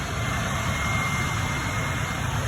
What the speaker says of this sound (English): I'll show you guys the sound of the engine if you guys want to hear the engine.